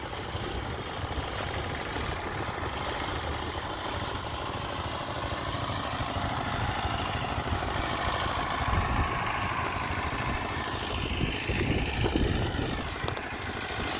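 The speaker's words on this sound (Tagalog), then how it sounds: "Ito ang lumang motor ko." An old motorcycle engine idles steadily at close range, a continuous low rumbling drone with slight swells in loudness and no speech over it.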